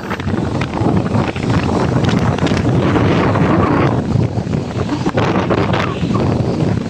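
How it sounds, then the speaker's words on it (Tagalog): Strong typhoon wind roars across the Manila Bay shore, a loud, unbroken gusting rush buffeting the microphone throughout, with surf and water churning underneath. "narinig mo yung narinig mo yung hangin. Ang tindi ng hangin."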